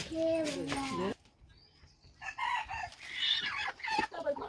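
Chickens cluck in a coop and a rooster briefly crows nearby, with a voice speaking softly between the bird sounds.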